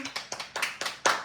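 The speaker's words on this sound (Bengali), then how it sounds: "হাততালি।" Several people clap at a birthday cake cutting, a short burst of about six sharp claps in an uneven rhythm, close and fairly loud.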